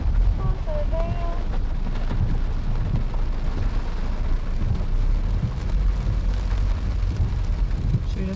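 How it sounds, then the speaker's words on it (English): Hail falling outdoors during a storm in November, a steady dense patter and rumble filling the whole stretch, with people talking over it now and then. "We got hail, guys."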